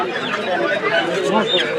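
Native chickens at a market in Nalitabari, brief close clucking mixed with someone talking and market hubbub.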